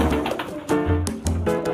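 Pigeons in a home breeding section cooing close by, several soft throaty coos in quick succession with low hums between them, clear and without talk.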